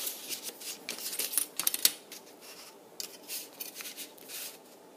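A pencil or pen scratches lines across dollhouse material up close, giving quiet, short strokes with soft rubbing and a few sharper scratches, heard alone without talk.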